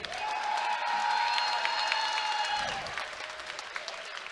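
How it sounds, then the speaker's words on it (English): Crowd at a fighting championship event applauds after a bout, steady clapping and cheering filling the hall, with a sustained tone over it that drops away partway through. "Ladies and gentlemen, a round of applause for these two warriors."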